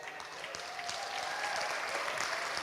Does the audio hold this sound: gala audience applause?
yes